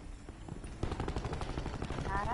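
Call of Duty Black Ops 4 gunfire crackles in rapid automatic bursts, sharp and dense, growing busier partway through as a player's voice is heard.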